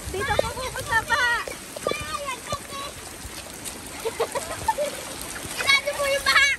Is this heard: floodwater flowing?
yes